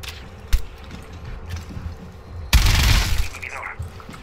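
Gunfire in the video game Rainbow Six Siege: a single sharp shot, then a louder burst with crashing and shattering debris a couple of seconds later, over a low hum of ambient game noise.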